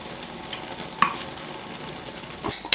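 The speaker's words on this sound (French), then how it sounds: "Et on n'a plus qu'à mélanger." A vegetable mixture with garlic, onion powder and paella spices stirred in a hot pan, giving a low continuous sizzle broken by a few brief scraping clicks, close and moderately quiet.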